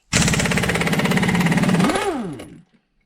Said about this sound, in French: le mieux c'est d'avoir une clé à choc, c'est très simple